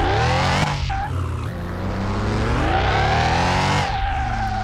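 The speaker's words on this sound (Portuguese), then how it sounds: "ele ainda continua catando pneu" In the Car Mechanic video game, a lowered Fusca on 21-inch rims with a 500-horsepower turbo Boxster engine spins its tires. A loud, continuous squeal rides over a roaring engine that climbs, dips and climbs again.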